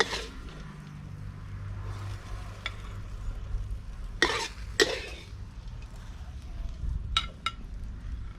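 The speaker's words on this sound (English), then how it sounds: "It's a quick stir fry." Pork with holy basil stir-fries in a pan with a low continuous sizzle and hum. A few sharp scrapes and clinks of a spatula against the pan break through, close by and steady throughout.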